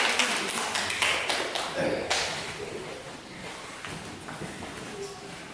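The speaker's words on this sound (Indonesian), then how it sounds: "tepuk tangan untuk kelompok ini" A class of students claps for a student group during a lesson, a dense burst of many hands that is loudest at the start and thins into scattered claps.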